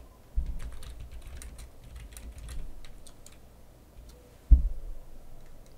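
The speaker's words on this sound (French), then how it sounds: "j'écris le message dans mon espace blanc et ensuite j'appuie sur Entrée ou je clique sur Envoyer" Keys clatter steadily on a computer keyboard as a chat message is typed in an online class tool, light close clicks running throughout with one louder thump near the end, likely the Enter key.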